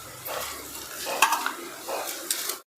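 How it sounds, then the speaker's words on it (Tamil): Curry with chili powder being stirred in a pot: soft sizzling under a few scraping spoon strokes and light metallic clinks, fairly faint, ending in sudden silence. "இப்போ எல்லாத்தையும் நல்லா கிளறி விட்டுடலாம்."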